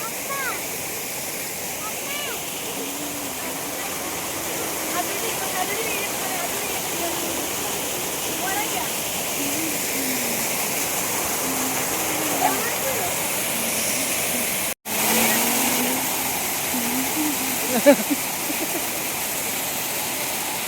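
A waterfall pours in a steady, broadband roar throughout, with people splashing and playing in the water; faint voices and occasional splashes rise briefly above the constant rush.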